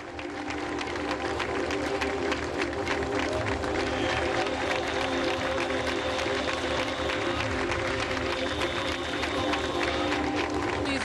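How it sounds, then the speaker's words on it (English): At a fashion show an audience gives sustained applause, clapping and faint cheering blending with crowd noise and music in an even, unbroken wall of sound throughout. "I'd like you to give a sustained round of applause, sustained, for Elizabeth Hurley and Arun Nair."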